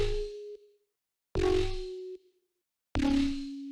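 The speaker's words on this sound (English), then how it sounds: "this is just like a bass screech at the beginning that you hear" Three loud, gritty synth bass screeches, each a sustained buzzing tone with a sharp attack, separated by short silences.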